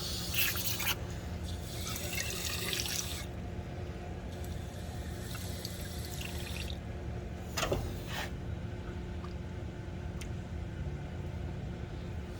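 Water is poured into the cooling system of a long-idle Toyota AE86 GTS with a 4A-GE engine: a steady, fairly quiet trickle and splash with a few brief sharper sloshes, heard up close with no one talking.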